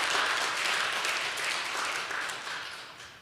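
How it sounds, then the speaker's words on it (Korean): A church congregation applauds at a thanksgiving memorial service, a steady wash of clapping that fades slightly toward the end, with no voices over it. "want to give them a warm round of applause for what they've done."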